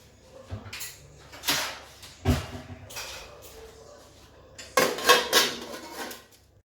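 Metal cookware clatters as a lid is set onto a cooking pot of tomatoes for butter chicken. Several separate clanks and scrapes come close by in a quiet kitchen.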